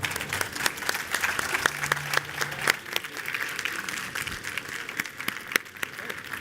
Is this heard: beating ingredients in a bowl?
no